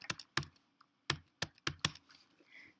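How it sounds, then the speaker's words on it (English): A handful of distinct keystrokes on a computer keyboard, close and fairly quiet, tapped in an uneven rhythm with short gaps between presses. "So I'm going to type the number again."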